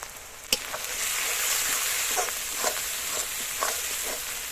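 Ground spices such as turmeric and Kashmiri red chilli powder sizzle steadily in a pan while being fried for mutton kasha, with a continuous close crackle and a few sharper stirring scrapes, and no talking.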